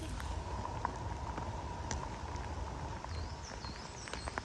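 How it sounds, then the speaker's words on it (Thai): Rain falling outdoors during mushroom picking, a dense steady patter of drops with scattered sharper taps close by, continuous throughout with no talking. "โอ้ยฝนจ้า"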